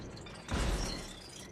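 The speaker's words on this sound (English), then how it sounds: "Metal bends, glass explodes, and twisted steel screams under extreme pressure." Glass shattering as a hydraulic press crushes a motorcycle, a sudden loud burst of breaking that rings out briefly and then fades into a dull mechanical hum.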